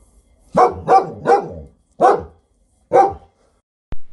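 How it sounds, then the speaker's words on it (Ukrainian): A dog barks five times in quick, uneven bursts, close and clear, with a short sharp click after the last bark. "гав, гав, подає голос собака"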